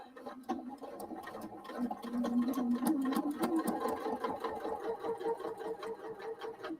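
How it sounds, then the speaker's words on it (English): A sewing machine stitches continuously at close range, its rapid needle rhythm whirring steadily and rising slightly in speed midway, with no voices. "I'm just gonna keep sewing."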